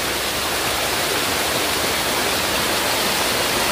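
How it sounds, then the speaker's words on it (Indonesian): A 20-30 metre waterfall, Curug Cadas Ngampar at Kasepuhan Cibedug near Citorek Barat, roars as a loud, steady, close rushing wash of falling water with no letup. "Jadi ketinggian air terjun ini sekitar 20 meteran ya."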